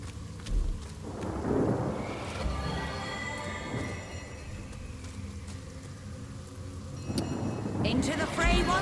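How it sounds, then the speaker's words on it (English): Thunder rumbles alongside rain in the Divinity Original Sin video game as a rain spell is cast over a battlefield, the storm swelling loud at the start, settling into a steady wash, then surging again near the end. "we'll just use a rain spell here to put everyone out"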